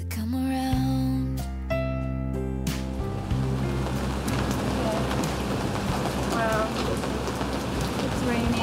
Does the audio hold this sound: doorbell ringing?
no